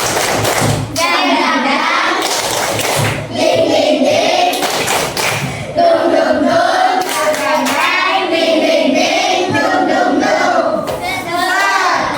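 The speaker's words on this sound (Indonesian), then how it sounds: "Ayo, 1, 2, 3, tepuk semangat." Schoolchildren in a classroom do a rhythmic spirit clap, with loud patterned hand claps and taps mixed with group chanting and shouting voices that keep going close up for about twelve seconds.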